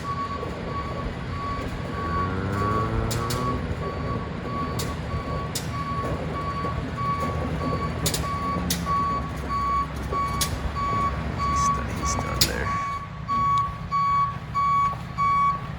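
A delivery truck reverses up a steep driveway, its backup alarm beeping steadily over a low engine rumble, with a hiss or two of brakes near the end.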